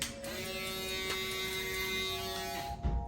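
Electric hair clippers running steadily during a fade haircut, a close, even buzzing hum that holds for a few seconds with a small bump near the end.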